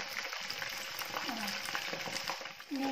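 Batter-coated mushrooms deep-frying in hot oil give a loud, steady, crackling sizzle that continues without a break. A voice is heard faintly in the background.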